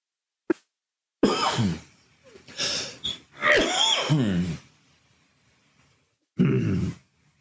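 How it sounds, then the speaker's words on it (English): Several harsh, chesty coughs, a lingering cough from blood pressure medication, come close up in separate bursts, with short silent pauses between them. "Still got that blood pressure medicine cough."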